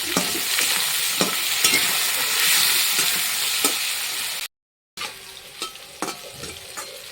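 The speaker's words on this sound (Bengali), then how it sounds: "তারপরে নাড়িয়ে দিলাম দিয়ে দিয়ে দেবো একটু হলুদ দিয়ে ভেজে নেব লাল লাল করে" Potatoes and onion fry with turmeric in hot oil while being stirred: a steady, loud broadband sizzle with scraping stir strokes, a brief dropout near the middle, then the sizzle returns slightly quieter.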